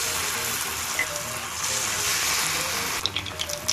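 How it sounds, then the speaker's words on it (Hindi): Batter-coated cauliflower pieces for Gobi 65 deep fry in hot oil with a steady, close hiss of bubbling, joined near the end by a few brief crackles and pops. "अब एक एक पीस लेके हम हमारे बैटर में अच्छे से इसको कोट करेंगे और इन्हें डीप फ्राई करेंगे"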